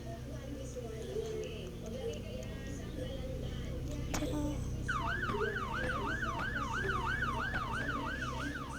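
A wailing police siren from the Roblox Brookhaven video game rises and falls steadily in the second half over a constant car engine hum.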